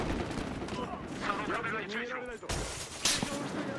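Sniper fire in the video game Battlefield Hardline, sharp gunshot cracks over dense game noise and explosions, with a loud report near the end, continuous and busy.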